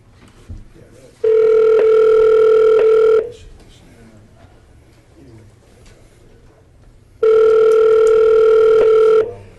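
A telephone call tone over a meeting line sounds twice as long steady electronic beeps, each about two seconds, separated by a quiet gap with faint background noise.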